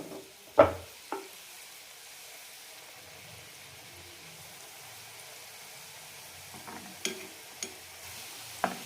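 Rose cookie (achappam) batter fries in hot oil with a soft steady sizzle, broken by a few sharp clinks and splashes as the mould is dipped and lifted.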